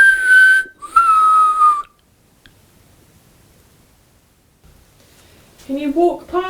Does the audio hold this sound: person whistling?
yes